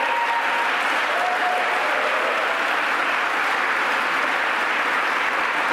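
An audience at a government press event with the governor of New York applauds loudly and steadily, dense clapping filling the room without pause.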